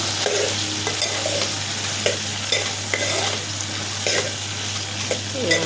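Green chillies fry in oil with a steady close sizzle, broken by regular scraping stirs about once a second and a constant low hum underneath.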